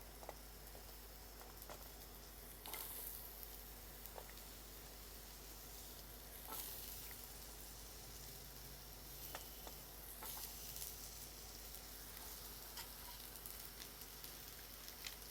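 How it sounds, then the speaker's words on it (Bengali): Chopped pumpkin frying in oil with five-spice seeds: a steady, faint sizzle with soft crackles and occasional louder pops, continuous throughout with no talking. "পাঁচফোড়ন ভাজা হয়ে গেছে এবার আমি দিয়ে দিচ্ছি ছোট করে কেটে রাখা কুমড়ো"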